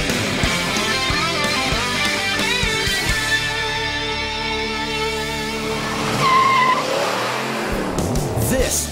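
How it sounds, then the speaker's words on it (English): A 1970 Chevrolet Chevelle SS muscle car accelerates hard in a straight line, its loud engine roaring and climbing in pitch through the gears, with a brief shift break before it rises again. "This is what the muscle car was all about. Straight line acceleration."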